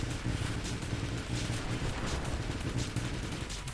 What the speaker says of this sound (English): Big old one-eyed spider thing firing missiles.